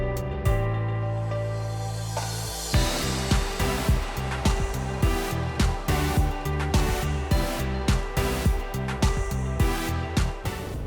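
Four 600-horsepower Mercury V12 Verado outboards drive a De Antonio D60 motor yacht at about 20 knots, giving a steady harmonic engine drone under a regular pattern of thumping hull slaps.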